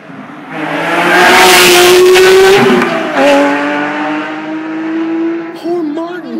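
A 2010 Porsche 911 GT3 RS rushes past on a runway, its high-pitched flat-six engine screaming loudly as it revs, then shifting and fading away. Voices are heard faintly near the end.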